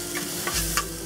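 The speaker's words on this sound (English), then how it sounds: "And next we'll add the ginger and garlic." Ginger and garlic hit hot oil in a pan and sizzle loudly and steadily, with a couple of light stirring scrapes close by and no one talking.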